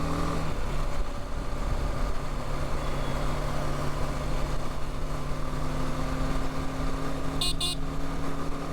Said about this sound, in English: you must be hearing a lot of wind sound now